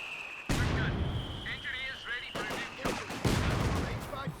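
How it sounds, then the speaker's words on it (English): Mortar rounds and other battle fire from the video game Company of Heroes 2 thump and crack in several sharp bursts under a commentator's voice. "Mortar working"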